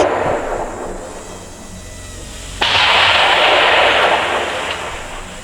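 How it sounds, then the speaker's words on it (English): On a Ukrainian frontline, a loud, close blast bursts out abruptly, then rumbles and crackles as it slowly fades, with a few faint thuds before it. "explosions very close to us tell us Ukrainian troops are firing at the Russians"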